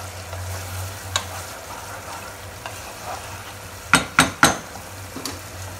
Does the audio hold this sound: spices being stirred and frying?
yes